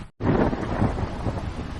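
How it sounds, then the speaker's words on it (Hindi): Heavy rain and thunder in a Hindi cartoon, a loud, dense downpour with a deep rumble that starts after a brief silent gap and roars on steadily without talk. "लाडो तेज बारिश में अपने बच्चों की तरफ निकल पड़ी।"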